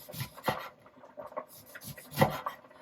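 A knife slices a lemon into thin rounds, producing a few faint, close, soft cutting strokes and board taps spaced irregularly over a few seconds.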